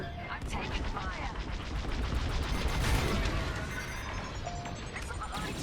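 Starfighter blaster fire in Star Wars Squadrons, a steady, dense rattle of rapid laser shots sustained throughout amid engine roar and battle noise, with voices talking over it.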